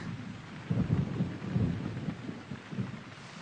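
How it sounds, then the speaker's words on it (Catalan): Steady rain with low rumbling swells, a continuous wash of heavy rainfall and distant thunder-like rolls, no voices. "Comença a ploure força."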